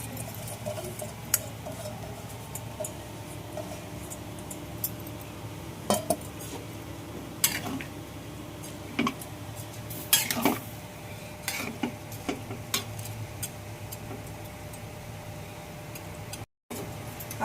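Soaked biryani rice, about 500 grams, goes into a pan and is stirred, giving scattered metallic clinks and scrapes of a utensil against cookware over a faint low background hiss, soft and intermittent with no voices.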